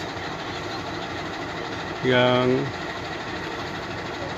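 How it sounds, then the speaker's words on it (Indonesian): A train hauling rail sections for the Jakarta-Bandung high-speed line, leaving the depot, gives a brief horn-like tonal blast over a constant rumbling engine drone and background noise. "membawa rangkaian rel kereta cepat Jakarta-Bandung"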